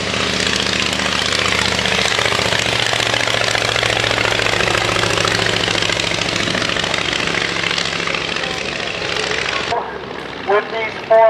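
A Waco INF biplane's radial engine drones steadily and loudly in flight at an air show at Old Rhinebeck Aerodrome, a sustained propeller rumble that fades near the end.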